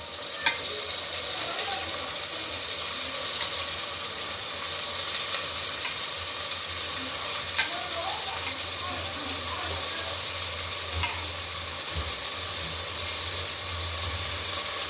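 Chopped vegetables and tomato cook in hot oil for a Gujarati rasiya rice dish. A constant, fairly loud frying hiss runs throughout with occasional light scrapes, and no one speaks.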